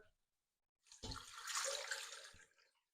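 Cold water pours from a tap into a pot holding a chicken carcass for a little over a second, a soft hissing gush, with a faint clunk of cookware before and after.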